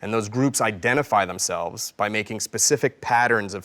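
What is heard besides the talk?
No distinct noise like a dog, phone or traffic.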